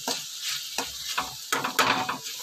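Prawn curry with curry leaves frying in hot oil in a pan, with bursts of sizzling and stirring scrapes coming in uneven clusters, fairly close and loud.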